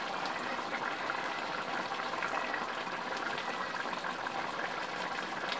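Water boils down in a cooking pot of ghee rice, a steady soft bubbling hiss that stays faint and even throughout.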